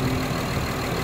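A car engine idles steadily with its AC compressor and both cooling fans running while the alternator is under load, giving a continuous close, even hum and whir with no talk.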